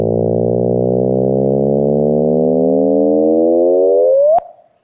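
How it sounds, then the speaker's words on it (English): Simulated gravitational-wave chirp from two merging black holes: a steady harmonic tone that rises in pitch over about four seconds, then sweeps sharply upward to an abrupt end, leaving near silence. "That was the sound of two black holes merging."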